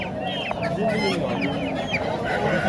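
Dense peeping of many chicks mixed with clucking hens at a poultry market in Tashkent, a busy crowded chorus close by, with faint voices underneath.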